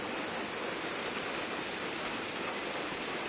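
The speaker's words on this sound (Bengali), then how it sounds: "কারণ প্রচুর পরিমাণে বৃষ্টি হচ্ছে" Heavy rain pours down in a dense, unbroken hiss that stays loud and even throughout, with no voices and no other sounds rising above the downpour.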